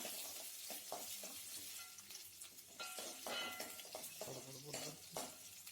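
Onions sauteing in hot oil for a country-chicken kulambu, a steady broadband sizzle with intermittent scraping stirs and light clinks of a ladle against the pan, close and continuous with no talking.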